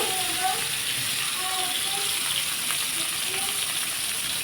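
Chopped onion, green chilli and tomato frying together in a pan, giving a steady, close hiss of sizzling oil with faint scraping and rattles running throughout, with no voice over it.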